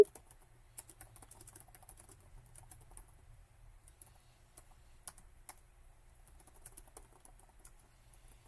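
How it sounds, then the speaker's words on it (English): Quiet, steady typing on a computer keyboard, soft clicks in an irregular patter with occasional sharper keystrokes, no voices. "I enjoy the sound of your typing."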